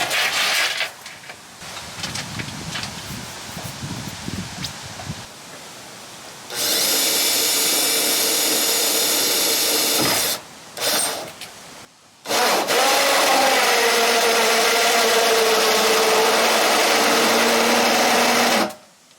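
A power drill bores a hole into a camper van body with a cheap drill bit, sounding in loud sustained whining bursts separated by short pauses, with quieter handling noise beforehand.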